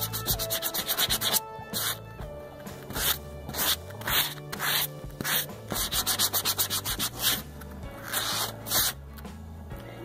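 Someone sands a wooden dresser by hand in quick rasping strokes that come in close, regular bursts with short pauses between them.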